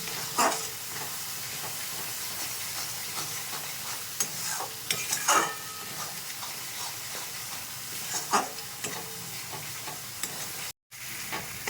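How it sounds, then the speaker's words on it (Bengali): Kashmiri chilli powder and turmeric masala sauté in a pan for a Bengali katla fish curry, a continuous sizzle with frequent spoon scrapes and stirring clatter, briefly dropping out near the end. "এটাকে ভালোভাবে কষিয়ে নিচ্ছি"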